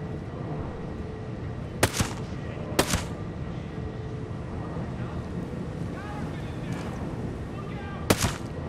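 A VHS-D2 rifle fires in Ghost Recon Breakpoint, three sharp, loud shots spaced several seconds apart over a windy outdoor ambience.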